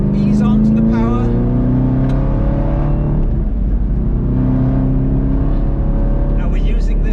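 Loud, sustained V8 engine note from a Chevrolet Camaro ZL1 1LE on a racetrack, a steady droning roar with rising and falling pitch as it pulls, running the whole time with a voice talking over it.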